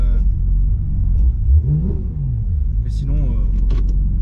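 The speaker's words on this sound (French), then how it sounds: "là les échappements sont ouverts" A Porsche GT3 RS with its exhausts open rumbles deeply from inside the cabin, its pitch rising and falling with throttle, while someone talks in French throughout.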